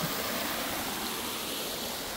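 Continuous rushing spray of water at Beaver Lake, steady and fairly close, a broad hiss-like wash with no pauses and no voices.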